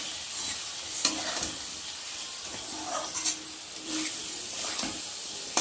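Ginger paste being stirred and fried in a pan, soft steady sizzling with occasional scraping strokes of a utensil, fairly quiet and close.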